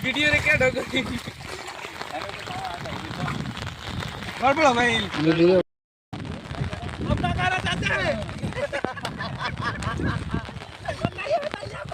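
Floodwater runs through a flooded village, a steady rushing wash heard close by under continuous voices, with a brief dropout midway.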